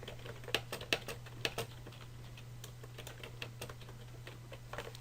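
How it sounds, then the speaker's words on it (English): Someone types steadily on a computer keyboard with quick, irregular key taps over a low steady hum, with no talking. "Type a bunch of stuff."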